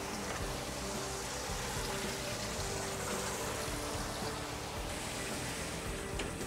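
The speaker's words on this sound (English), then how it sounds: "Turn the water on." Clean rinse water runs steadily over a liquid photopolymer resin printing plate in a platemaking rinse section, a continuous broadband hiss and patter like rain that holds evenly throughout with no voices.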